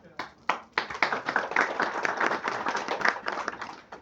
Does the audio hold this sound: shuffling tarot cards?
no